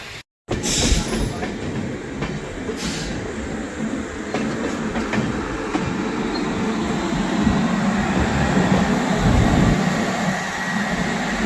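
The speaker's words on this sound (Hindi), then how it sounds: "तो गाइस आ चुकी है धनबाद सासाराम ट्रेन।" The Dhanbad Sasaram train pulls into a station with a continuous, loud rumble of wheels on rails, faint clicking and squealing mixed in as the rolling noise builds steadily over several seconds.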